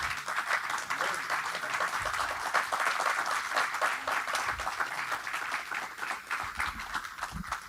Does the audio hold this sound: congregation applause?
yes